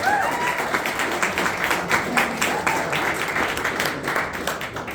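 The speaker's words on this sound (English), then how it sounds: "give yourselves another round of applause" An audience at a political event for a newly elected congressman breaks into sustained applause, a dense, steady wash of clapping from a crowd lasting several seconds, with a few faint voices mixed in.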